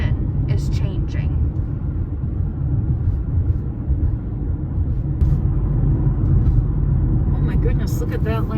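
Car climbing an incline on Carmel Road, with a steady low engine and road rumble heard from inside the cabin, while people talk over the drive.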